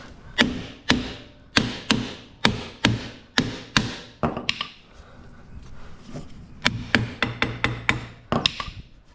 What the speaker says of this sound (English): Just give them a tap, see if they free up